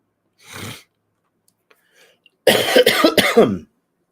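A short cough, a pause with faint breaths, then a longer fit of several harsh coughs close by.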